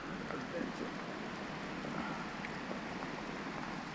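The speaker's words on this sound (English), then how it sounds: "And of course the pouring rain comes." Heavy rain pours steadily during a motorcycle adventure trip in the Appalachians, a dense continuous hiss filling the whole stretch with no breaks.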